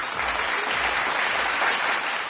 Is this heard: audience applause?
yes